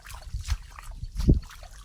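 Water flows and trickles with soft, irregular gurgles and splashes, faint and close by, with one slightly stronger slosh near the end.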